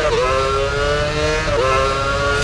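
F1 car engine in the F1 Championship Edition video game, wailing at high pitch as the car is floored toward turn 15, with quick upshifts dipping the tone twice before it climbs again; loud and continuous with no talk.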